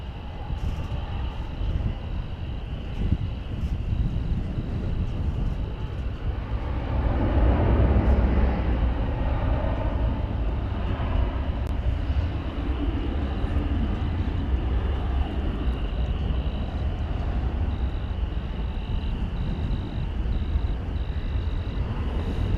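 An American Airlines jet taking off from runway 18 Left at DFW Airport gives a steady, distant engine roar and rumble that swells slightly midway, with some wind noise and no talk.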